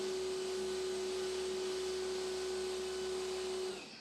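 An EGO 350 PSI battery backpack sprayer blasts water in one continuous, loud, close hiss with a steady motor whine, holding level for several seconds and then trailing off; no talk.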